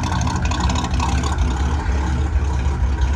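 A 1957 Chevrolet Bel Air convertible with a Power Pack four-barrel V8 and dual exhaust idles steadily, a close, continuous low rumble with no talk over it.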